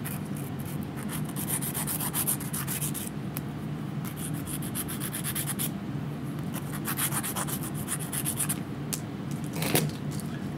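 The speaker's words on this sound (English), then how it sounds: "Just rotate it as you're sanding." A nail file sands the outside of a pipe being rotated, giving soft, steady rubbing and scraping strokes in repeated bursts, quiet and close, with no talking.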